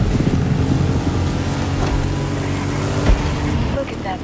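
A motorcycle engine at full throttle in The Crew Motorfest, a steady, loud drone that holds throughout, mixed with wind rush and a voice talking over it.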